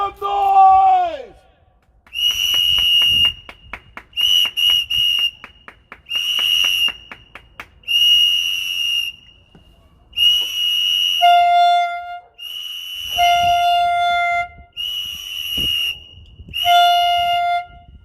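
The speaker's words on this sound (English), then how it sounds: "would you clap your hands, honk your horns, shout, make some noise!" Car horns honking in long, repeated blasts, mixed with whistling and crowd noise in a loud outdoor salute to frontline essential workers, the honks coming one after another with short gaps.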